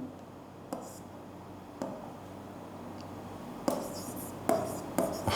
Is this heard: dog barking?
no